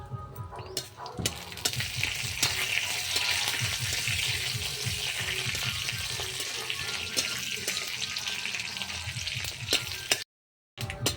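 Asafoetida, panch phoron, mustard and cumin sputter in hot oil as a tempering for mango dal, a dense crackling sizzle with rapid pops and stirring, close and steady, before a brief cut to silence near the end.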